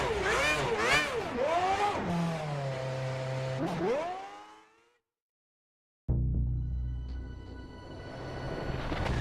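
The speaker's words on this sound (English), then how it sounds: "Get the car off the jacks and start the engine." F1 race car engine in a racing video game starting and revving, rising and falling whining pitch sweeps, then a steady rev before cutting to silence, followed by renewed engine noise, with some talk.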